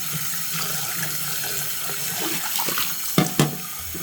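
Running water rinses sea moss for a final wash, a continuous loud splashing stream close by with a couple of sharper sloshes near the end.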